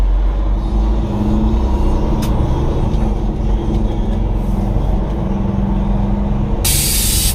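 Steady low car engine drone and road rumble while driving at night, continuous and close throughout, with a brief burst of brighter hiss near the end.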